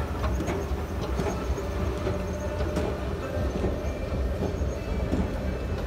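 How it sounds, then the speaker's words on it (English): A KONE ECO3000 escalator runs inside a Macy's department store in Aurora, Colorado, a continuous rumbling mechanical drone with faint rhythmic clicks and distant indoor ambience, steady throughout with no talk. "We got some KONE escalators."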